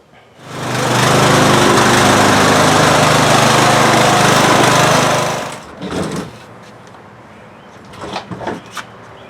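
An old lawn mower engine runs loud and steady for about five seconds, then cuts out abruptly, leaving a few faint knocks and rattles.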